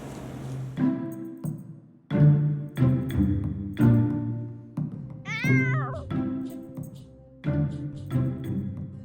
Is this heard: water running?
no